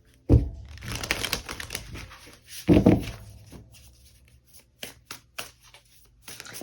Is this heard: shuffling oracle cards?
yes